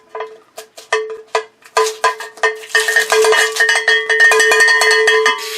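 Cowbell struck close and loud, starting with sparse single hits that speed up into a dense, rapid clatter of ringing metallic strikes, with no talking over it.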